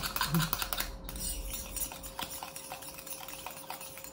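A homemade deodorant mixture is stirred steadily in a container, with continuous close scraping and clinking of a utensil against the sides, fairly loud and unbroken.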